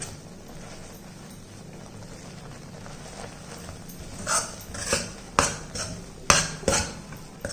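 Roasted corn flour and wheat flour get stirred in a pan over low heat, quiet at first and then a run of clinking, scraping spoon strokes against the metal, close and increasingly loud.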